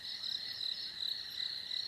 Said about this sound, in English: There are frogs, the crickets.